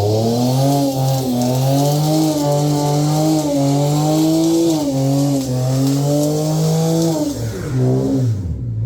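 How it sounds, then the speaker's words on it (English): A car spins one rear wheel in a burnout, its engine revving loud and sustained while the tyre squeals continuously, with the pitch rising and dipping before easing off near the end. "One wheel peel, mate. One wheel peel."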